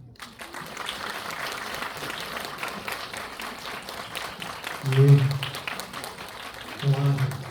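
Cinema audience applause greets a film director and actors at a stage appearance, a sustained wash of clapping with people talking over it.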